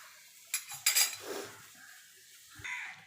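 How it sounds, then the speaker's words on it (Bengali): A knife scoring boiled eggs before cooking: a few quiet, short metallic scrapes and clicks against a plate, close up, followed by a soft tap. "এবার ডিমগুলোকে একটু কাট লাগিয়ে নেব যাতে ডিমের ভিতর সব মশলাপাতিগুলো ঢুকে যেতে পারে"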